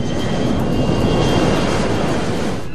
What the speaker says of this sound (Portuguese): Ajustando o empuxo máximo.